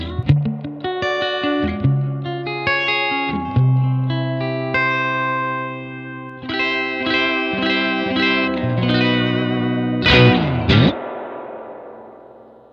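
Electric guitar through a great-sounding amplifier's cavernous, moody reverb, chords and melodic notes ringing out loud and close, ending in a quick sweeping slide.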